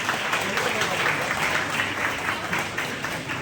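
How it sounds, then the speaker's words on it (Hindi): An audience gives a big round of applause for the teachers at a school stage program, a dense, steady burst of clapping lasting a few seconds. "तो एक बार जोरदार ताली हमारे सारे टीचर्स के लिए।"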